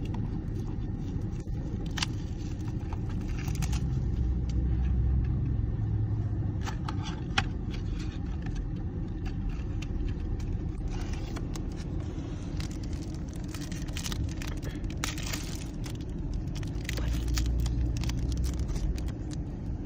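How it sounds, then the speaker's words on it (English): Cabin noise from inside a moving car, a constant low road rumble with scattered thumps and rattles as it rides over bumps, while cards and packaging shuffle and crinkle close by. "we're in the car, so sorry for the bumps"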